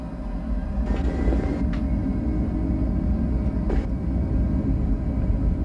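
Jet airliner engines rumble steadily as thrust is set for takeoff on approach to Paro airport, a constant loud low roar filling the cabin with a couple of faint higher clicks over it.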